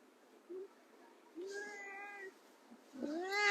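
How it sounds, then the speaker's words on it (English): A cat meows several times up close on a porch. There are short calls, one longer drawn-out meow, and a rising cry at the end, with faint background hiss between them. "Hi, Kitty."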